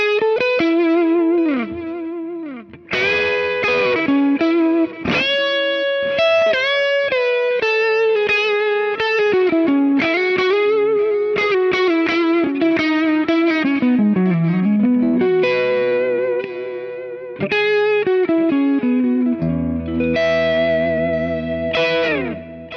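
Electric guitar through a Kemper profile of a Dr. Z amp (Z-Lux 1) with a chorused, slightly driven tone plays a continuous melodic lead with bends and chords, loud and up front.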